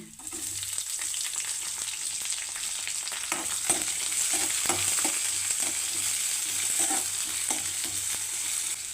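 Long-sliced shallots sauté in a pan with a little salt, a continuous close frying sizzle with soft, regular stirring scrapes throughout.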